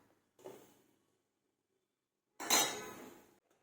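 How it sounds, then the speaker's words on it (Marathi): A fork taps on a plate of freshly fried, crispy Manchurian balls, giving two short crunchy clinks separated by silence, the second louder and longer, close up with no talking. "बघा इथे मी फोकने तुम्हाला आवाजसुद्धा करून दाखवत आहे"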